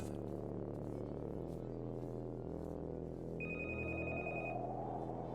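A single short telephone ring sounds over a constant low musical drone and hum, clear but moderate in level, with no voices.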